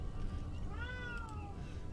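A single drawn-out cat meow rises and falls over a steady low hum of background noise, heard alone in the middle of a Disco Elysium play session.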